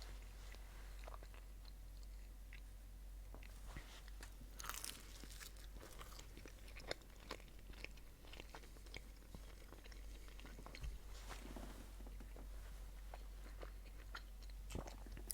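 Faint, close chewing of Domino's stuffed-crust pizza, with soft crunchy bites and wet mastication sounds scattered at irregular moments over a low background hum.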